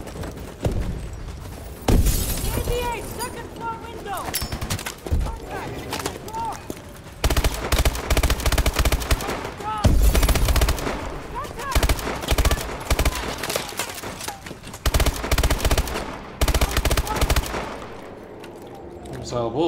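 Call of Duty Advanced Warfare firefight with dense bursts of automatic gunfire, close and loud, recurring in heavy clusters across the stretch, with voices speaking over the shooting.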